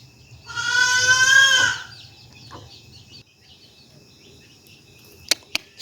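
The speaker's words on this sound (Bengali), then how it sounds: "এদিকে দেখেন আমার ছাগলের বাচ্চাগুলো কান্না করতেছে" Baby goats bleating on a rainy day at a home farm: one loud, drawn-out wavering cry up close, then quieter movement and two sharp clicks near the end.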